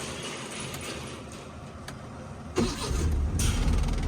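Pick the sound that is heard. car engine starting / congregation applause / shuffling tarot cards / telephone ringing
car engine starting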